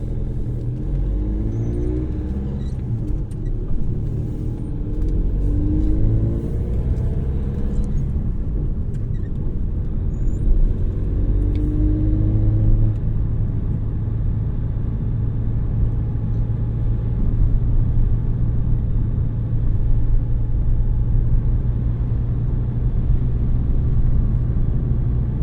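A car idling in first gear while waiting at traffic lights, a steady low engine rumble held throughout with slight rises as the clutch is balanced, close and continuous.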